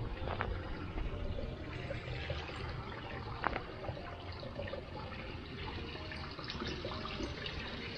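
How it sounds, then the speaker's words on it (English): Water pours steadily out of a park lake's overflow outlet, a continuous close rushing and trickling wash that holds an even level throughout, with a small knock partway. "when it reaches a certain height, water comes out through here"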